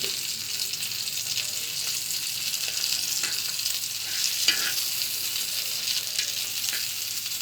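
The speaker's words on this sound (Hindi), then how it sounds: "अब हम ब्रेड को अच्छे से फ्राई कर लेंगे" Bread fries in oil on a tawa with an even, steady sizzle, broken by a few faint crackles and one small tap midway.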